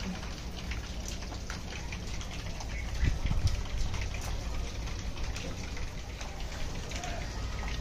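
Water trickles down rocks at a hill temple of Shri Siddeshwar in Kanbargi, a steady patter and drip close by with a brief bump partway through.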